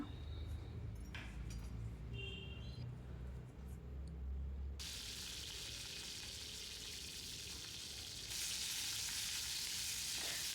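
Capsicum sizzles and fries steadily in a pan as restaurant-style kadai paneer is cooked, with occasional stirring clinks and a louder burst of sizzling partway through; no talking.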